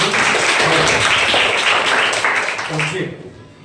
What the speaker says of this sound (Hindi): एक बार ताली बजा लीजिए अपने लिए